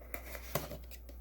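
Scissors cut open the plastic packaging of a GoPro chest mount, a few brief, close snips and crinkles over a quiet background.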